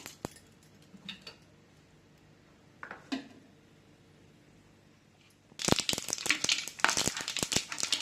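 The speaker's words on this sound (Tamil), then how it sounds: "எண்ணெய் சூடு ஏறினதுக்கப்புறம் கடுகு சேர்த்துக்கிறேன்." Mustard seeds hit hot sesame oil while Tamil seera kulambu is cooked. A few faint ticks come first, then a loud crackling burst of popping and spattering takes over.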